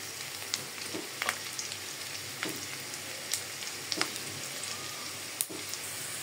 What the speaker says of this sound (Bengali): আমার পেঁয়াজটা কিন্তু ভাজা হয়ে গেছে।